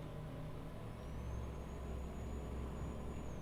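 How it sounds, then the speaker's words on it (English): An American truck engine in Euro Truck Simulator 2 with a sound mod, a steady low diesel drone with a faint rising whine, heard alone without talk. "It's a sound mod that this one guy made. It's pretty cool. It makes it sound like a real, American truck"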